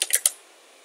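Three or four quick keystrokes clatter on a computer keyboard while coding a Python port scanner, close and crisp, followed by near silence.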